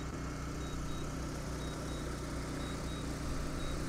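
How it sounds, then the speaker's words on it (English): A DJI Agras T40 agricultural spray drone returning to home gives off a steady, unbroken whir of rotor noise that stays constant and moderately loud throughout, with no talking. "Drone's flying back to us."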